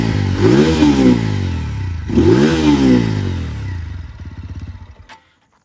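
A TVS Apache RTR 200 4V motorcycle engine revs hard twice in quick succession, each climbing then falling back, before settling into a loud, close idle that cuts off abruptly.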